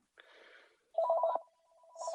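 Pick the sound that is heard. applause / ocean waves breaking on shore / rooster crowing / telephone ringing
telephone ringing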